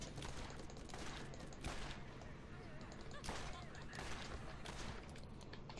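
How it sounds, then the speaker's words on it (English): Flak rounds fire in the Borderlands shooter game, repeated sharp gunshot bursts over a busy, noisy background, with a voice talking faintly beneath. "Actually, shooting them with flak rounds now that I think about it."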